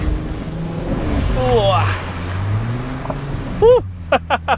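A first-generation Porsche Cayenne engine revving higher on a dirt off-road track, a low droning roar that swells and dips under an excited voice, ending in short sharp bursts.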